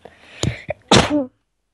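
A single person sneezes close up: a quick intake of breath and catches, then one sharp, forceful burst that trails off into a short voiced tail.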